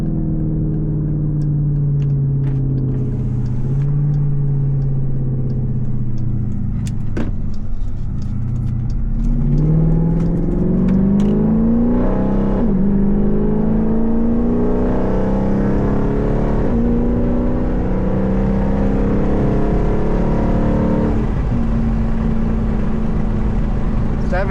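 A tuned 5.7 Jeep engine revs and rumbles continuously on a drive, its pitch climbing through the gears in rising sweeps, loud and steady inside the cabin.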